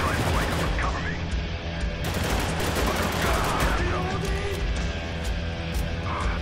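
Dense, continuous gunfire and crackling shots from the war shooter Spec Ops: The Line fill the scene at steady volume, with voices talking faintly underneath.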